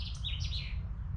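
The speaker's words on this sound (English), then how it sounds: "just listening to everything around with all the birds" Birds chirp and tweet in a new woodland, several bright, quick calls close by and fairly loud over a low background rumble.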